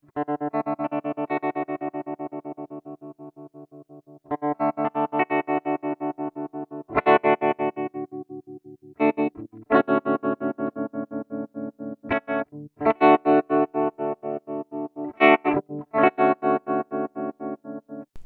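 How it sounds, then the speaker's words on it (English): Electric guitar chords through a NuX Cerberus multi-effects pedal in tremolo mode with rate and depth turned high, the volume chopping in a fast, even, mechanical pulse; several strummed chords ring out in turn, alone and loud. "So what we'll do is turn up the rate, turn that depth up. We're on tremolo mode right now."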